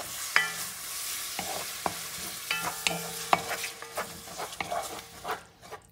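Grated fresh tomato frying in a pan, stirred with a utensil: a steady soft sizzle with repeated scraping strokes and small clicks against the pan, close and moderately loud, with no talking.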